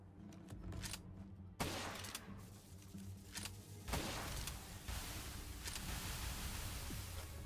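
Rapid bursts of gunfire from the video game Palworld crack out over a steady noisy game background, with several sharp shot clusters spread across the stretch.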